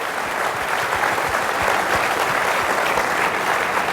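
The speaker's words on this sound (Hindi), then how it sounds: "इस बात से जो तालियों की गड़गड़ाहट है" Loud, dense applause from a large crowd, steady and sustained throughout with no pauses.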